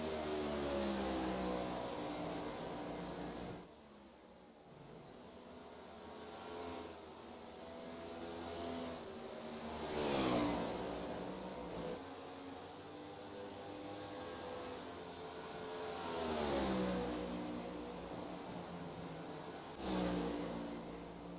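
NASCAR Gen7 race cars in iRacing at Homestead: a steady droning engine roar with rising and falling pitch sweeps as cars pass, moderately loud and continuous without talk.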